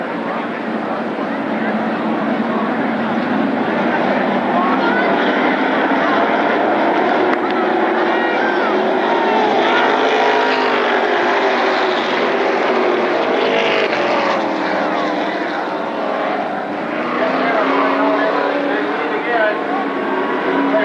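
Late model race cars roar together at Berlin Raceway, a dense, steady engine drone under continuous race commentary.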